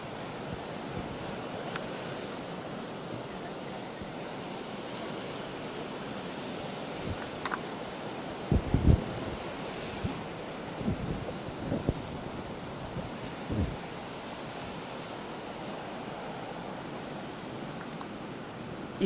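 Black Sea waves washing onto the shore at Karasu, a continuous broad surf roar with wind buffeting the microphone and a few louder bumps midway, no voices.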